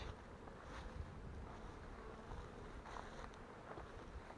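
A faint, steady buzzing of many honeybees at hives in a highland area hums under soft wind noise, continuous and distant-sounding with no voices.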